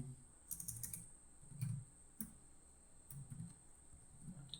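Login details are typed on a computer keyboard in short bursts of soft, close key clicks separated by brief pauses, quiet and without any talking.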